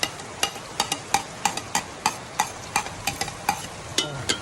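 Garlic and onion frying in a pan, with a steady sizzle broken by regular sharp scraping strokes of a spatula stirring the pan, close and fairly loud, with no talking.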